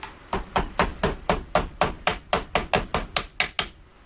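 A hammer taps wood in a quick, steady rhythm, about fifteen light even strikes, close by and alone, loosening a glued segmented wooden bowl.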